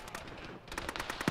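Gunfire in a military video game, with a quick run of sharp shots fired in bursts after a brief lull, fairly faint against the background.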